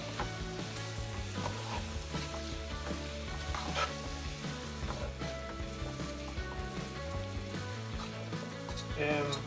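Cabbage and saltfish fry in a pot as they are stirred, giving a steady, close sizzle throughout with faint background music beneath.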